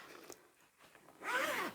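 A zipper on a sewn wide-opening pouch with a turned-in zipper end, pulled open in one quick rasping run near the end after a few faint handling clicks.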